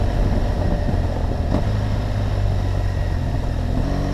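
Steady, loud engine drone of a BMW R1200GS Adventure motorcycle ridden along an off-road trail, a continuous low rumble with a brief bump near the middle and no talking.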